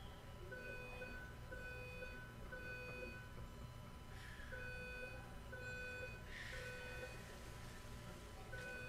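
Repeated electronic alarm beeps sound at a Los Angeles city council meeting, a steady series of evenly spaced tones over low room noise, fairly faint and without clear speech.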